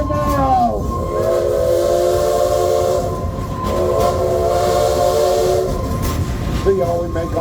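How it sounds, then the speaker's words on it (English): A steam train whistle blasts in long sustained tones at a public event, loud and close, with a brief break before sounding again and crowd noise underneath. "Engineers, blow the whistle for us."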